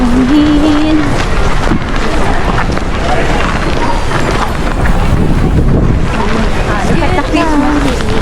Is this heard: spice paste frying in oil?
no